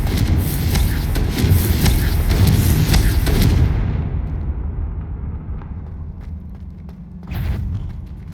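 Confringo blasting-curse explosions in Hogwarts Legacy: dense, loud booming blasts fill the first few seconds, then die away into a rumbling tail, and a further burst follows near the end.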